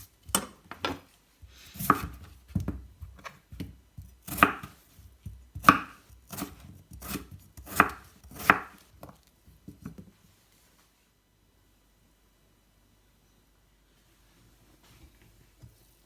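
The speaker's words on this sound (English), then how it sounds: "I'm just going to give them a quick peel and chop them into about centimetre cubes" Peeled potatoes being cut into small cubes on a board, a quick run of crisp, close knife taps that stops partway, leaving near silence.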